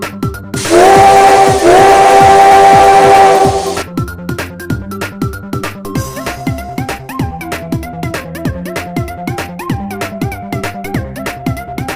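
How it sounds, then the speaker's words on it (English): A loud, sustained steam whistle blast with a brief break, followed by rhythmic chugging and clanking of a moving train. "I'm proud of my whistle and enjoy letting it rip when I get the chance."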